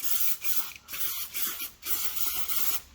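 An aerosol can sprays Bilt Hamber rust-prevention coating onto a car's underside in four or five hissing bursts, each about half a second long with brief pauses between. The can is old and the spray comes out thick.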